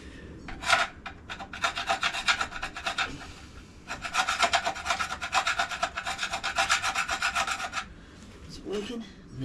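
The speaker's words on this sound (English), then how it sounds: "Just see if we can get the paint off with the file." A metal file rasps back and forth against a painted surface in steady, close strokes, two long bursts of rhythmic scraping separated by a brief pause, with no talking.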